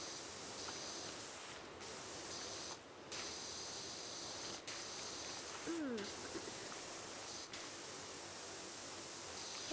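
Video game power washer spraying: a continuous broad hissing jet with brief interruptions where the spray cuts out and resumes, steady and fairly close.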